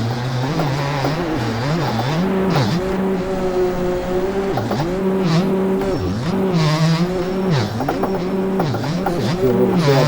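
Gas Gas 250 two-stroke dirt bike in the MX Bikes racing game on a motocross track, its engine buzzing loud and continuous with pitch rising and falling through throttle blips, shifts and corners, no talk.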